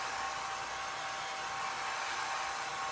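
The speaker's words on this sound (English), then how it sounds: "I'm just going to dry this up with my hair dryer" A hair dryer blows continuously on a craft project, a steady close airy whoosh with a faint whine, with no other sounds.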